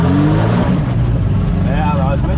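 A Citroën Traction fitted with a V12 bi-turbo engine accelerates hard, its engine note rising loud and close under someone talking.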